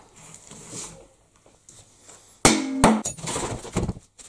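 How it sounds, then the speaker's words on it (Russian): Sharp metallic hammer blows knock a drum out of its bearing, a few loud close strikes and clanks after a quiet stretch of faint handling. "Осталось выбить барабан из подшипника."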